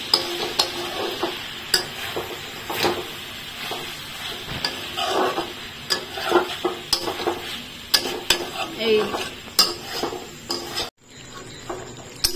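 Fried paneer is stirred into chili paneer in a pan, with repeated scraping and clacking of a spatula over a low sizzle. The close, irregular strokes fall quiet just before the end.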